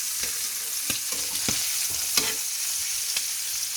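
Rabbit pieces browning in a pan of butter and oil give a steady close sizzle and crackle, with a few sharper clicks and scrapes of stirring throughout and no voices.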